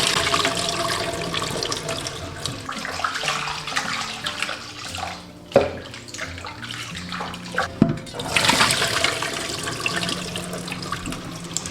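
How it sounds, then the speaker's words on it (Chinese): Eel being rinsed under clean running water from a kitchen tap, a steady close splashing stream broken by a few clunks and handling splashes midway before the flow picks up again. "倒入清水清洗。 这个鳗鱼一定要多清洗几遍"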